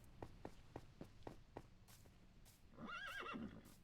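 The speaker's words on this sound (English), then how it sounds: "E nada mal aquele cavalo." A horse in the video game Minecraft Dungeons clip-clops at a steady walk, then gives a clear, close whinny that rises and wavers for about a second.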